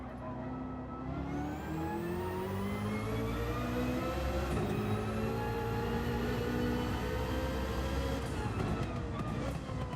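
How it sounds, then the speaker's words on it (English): A race car's engine in Gran Turismo 7 drones loud and steady, its pitch rising through the gears with a shift change midway, continuous throughout. "That battery's gone, and you can just hear the engine note die."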